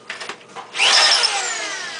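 A power drill bores into a basement wall at close range, starting abruptly and running as a loud, steady whine that holds for over a second with no voices.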